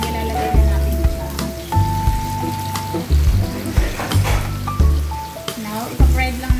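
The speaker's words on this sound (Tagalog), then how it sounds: "Now, ipa-fried lang natin ng konti." Salted shrimp frying in a pan, a steady sizzle that runs through the whole stretch beneath background music.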